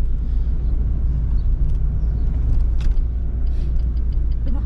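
A used car rolling along with a steady low engine and road rumble, interior perspective, continuous and fairly loud, with a few light clicks and knocks over the drone and no talk.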